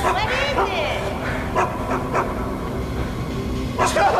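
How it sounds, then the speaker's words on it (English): A dog in the video game Geist barks and whimpers in short yelps and whines, moderately loud and close, over a steady game background with some voices. "I hate the damn dog!"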